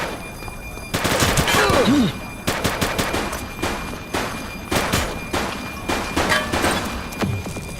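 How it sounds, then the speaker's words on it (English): Gunfire from a suspect in The Precinct police game: bursts of shots with a loud volley at first, then repeated separate reports spaced over several seconds, close and sharp. "He's shooting!"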